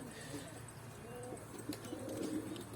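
Pigeons in a coop on a hot, sunny day with a water basin for bathing, giving soft low cooing and bird calls amid steady background noise.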